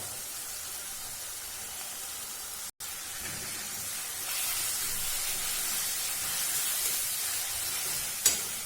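Green beans with ginger paste fry in a pan, giving a steady broadband sizzle and hiss that swells slightly partway through, with a brief sharp click near the end and no talking.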